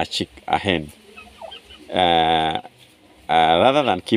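Hens and young chicks on a poultry farm keeping turkeys as well, with loud drawn-out clucking calls close by and softer peeps and rustling between them.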